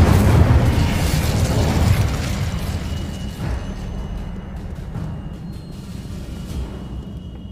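Incendio fire spell cast in the video game Hogwarts Legacy, a loud whooshing burst of flame at the start that decays into crackling rumble over several seconds.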